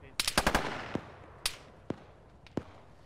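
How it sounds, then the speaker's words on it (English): Gunfire in a military video game: a quick cluster of sharp shots, followed by several scattered single cracks, some near and some more distant. "we're taking accurate fire from the northwest"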